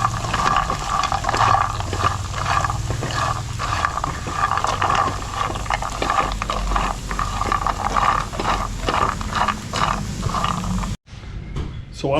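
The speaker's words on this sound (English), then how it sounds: "while the pan's still hot, you can hear it sizzling." Steady, dense sizzling of oil in a hot pan with scraping and stirring clatter throughout, cutting out briefly near the end before resuming.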